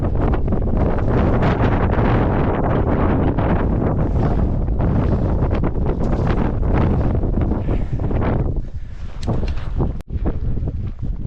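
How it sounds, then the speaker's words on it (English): Strong wind buffets the microphone in a constant, loud roar on a frosty mountain hike up Mount Washburn, Yellowstone National Park, with gusty rumbling throughout and a sharp knock near the end. "it's a little windy"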